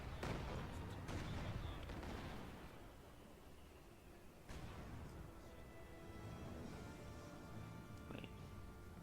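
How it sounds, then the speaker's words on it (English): Artillery fire in Company of Heroes 2 during a World War II tank battle, a series of distant booms and crackling impacts scattered over a busy battlefield din. "More and more artillery."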